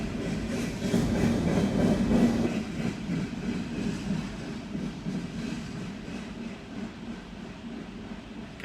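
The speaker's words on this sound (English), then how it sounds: "like the local trains rolling through." A local train rolls through with a steady low rumble and rattling of cars, louder and rougher in the first few seconds and then settling to an even drone as it continues past.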